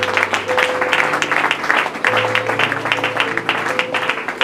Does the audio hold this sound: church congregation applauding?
yes